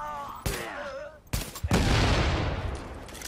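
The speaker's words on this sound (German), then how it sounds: "Boah, was ist denn da jetzt explodiert?" Explosion and gunfire in The Division video game: sharp bursts of shots cut through, followed by a loud, rumbling blast that lingers and decays, with brief game sounds before it.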